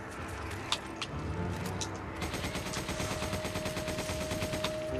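Rapid automatic gunfire in the video game Resident Evil 5 rattles in quick repeated bursts, moderately quiet and steady throughout.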